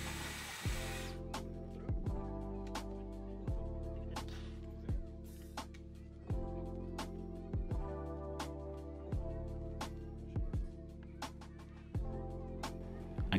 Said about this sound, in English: the steel boring action of this drill bit is really incredible